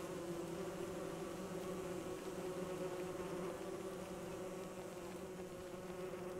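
Bees swarm in the video game Don't Starve, a dense steady buzzing drone that stays loud and unbroken throughout.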